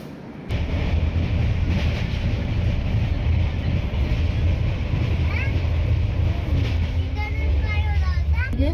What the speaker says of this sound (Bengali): আমাদের ট্রেন ঢুকে গেছে আসানসোল জংশন স্টেশন